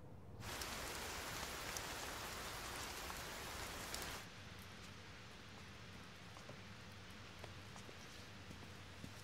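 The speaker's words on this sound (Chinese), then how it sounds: "燕琴，下雨天肯定是要堵车的" Steady rain falls on a rainy day, a loud dense downpour for about four seconds that then drops to a softer, quieter patter with scattered drips.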